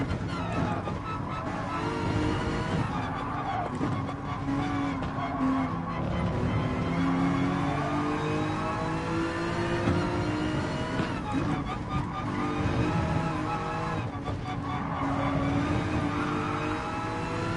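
GT3-class race cars including a Ferrari 488, a Hyundai and an AMG GT3 in Gran Turismo Sport, engines droning and shifting steadily with occasional tire scrub, loud and continuous throughout.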